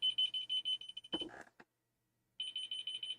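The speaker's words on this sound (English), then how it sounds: "Now you got beeping going on." A household smoke alarm sounds a rapid train of shrill, high-pitched beeps, then falls silent for about a second before the insistent beeping resumes, with a brief muffled knock in the gap.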